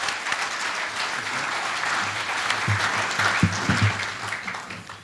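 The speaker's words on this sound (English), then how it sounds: "and just give them a round of applause." An audience at a live-streamed event gives presenters a steady round of applause, a dense even patter of many hands with a few low thumps underneath, carrying on without speech.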